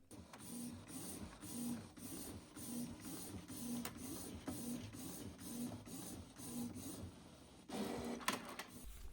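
Desktop printer running a print job on paper craft sheets, a steady mechanical whir with regular rhythmic clunks of the print head or feed about once a second, heard alone at moderate level, ending in a brief louder burst.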